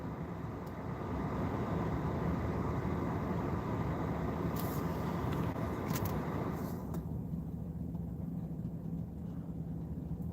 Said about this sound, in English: I can't hear anything but a train out there.